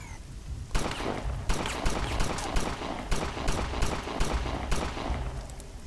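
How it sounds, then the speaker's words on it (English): Gunshots in the video game Satellite Reign at the UzyKorp R&D Labs in the Industrial District, a string of sharp separate cracks at irregular intervals, fairly close, over a low background hum. "Just need to shoot this gun."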